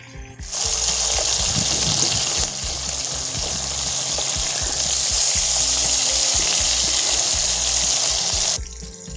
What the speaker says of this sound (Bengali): তেলটা আমার গরম হয়ে গেছে, আমি এখানে মাছগুলোকে ভেজে নেব